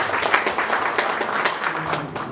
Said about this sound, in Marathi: टाळ्या वाजवून एकदा त्याला